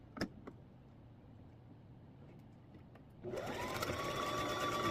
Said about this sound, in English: I am going to do a zigzag stitch on the end of the divider piece where the raw edges are